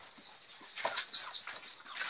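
Chickens in a backyard coop holding giant Indian (índio gigante) birds give faint scattered clucks and short chirps, with a rustle or brief wing flutter, all quiet and fairly close, with no talking.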